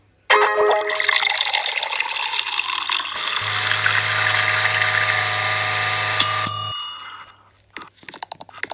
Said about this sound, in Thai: อุ้ยยังไม่ได้กินนมด้วยเดี๋ยวขอชงนมก่อน